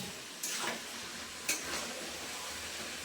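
Potatoes go into a sizzling chicken gravy in a pan, giving a quiet steady fry with two brief scraping stirs, heard close with no talking.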